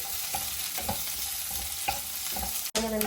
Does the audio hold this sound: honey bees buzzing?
no